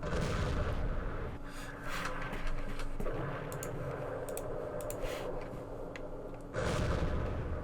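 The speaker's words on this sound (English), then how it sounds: "We have some mortars hitting here," Mortar and artillery fire in the Campaign Series Vietnam wargame set around Binh Long: dull booms and rumbling impacts over a steady low bed, with scattered sharp crack-like hits.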